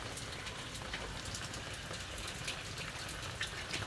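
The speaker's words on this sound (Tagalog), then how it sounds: "Wala nang sawa ang ulan." Steady rain pours in a rural Philippine setting, a faint, continuous wash of falling water with scattered drop ticks throughout.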